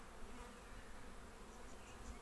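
Honey bees buzzing over a comb in a hive, a faint continuous hum of many insects at once with no pauses, steady and low in level throughout.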